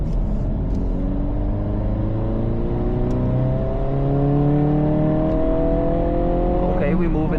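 11th gen Honda Civic Si with a 1.5 liter turbo accelerating on a late-night drive, engine note climbing steadily through rising gear pulls, heard from inside the cabin.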